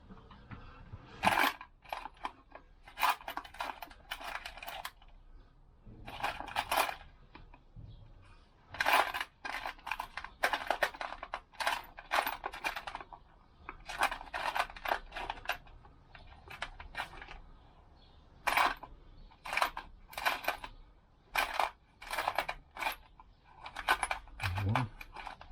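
Small metal washers for a Lambretta scooter clink and rattle in bursts as they are rummaged through, faint and close, with quiet pauses and some low background speech.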